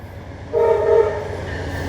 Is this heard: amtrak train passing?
yes